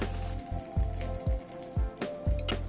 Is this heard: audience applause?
no